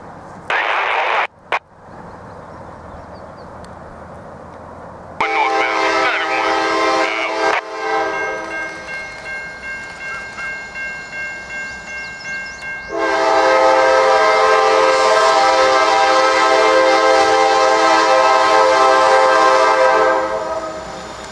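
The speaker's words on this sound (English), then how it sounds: "Norfolk Southern NS train 231." Norfolk Southern freight train passing a bridge in Atlanta, Georgia, with long, loud blasts of its multi-tone horn over the rumble of rolling cars, the horn sounding twice and growing stronger near the end.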